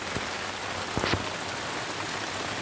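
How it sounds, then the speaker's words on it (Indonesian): Rain falls steadily at night on a fishing platform off Tanjung Kait, an even close hiss of drops on the surface with a few louder taps. "Hujan bro."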